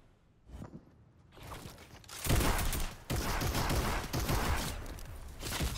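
Combat shotgun shots in Fortnite, a burst of loud, dense gunfire that starts after a quieter stretch and keeps going near and heavy to the end, with no talking over it.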